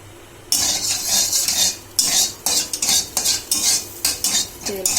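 Two beaten eggs go into a pan and fry for an evening egg chowmein snack, with a spatula scraping and clattering against the pan in quick repeated bursts over a light sizzle.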